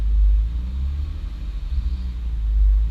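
A steady low car engine rumble idles on its own, with a slightly uneven, wavering tone and no voices.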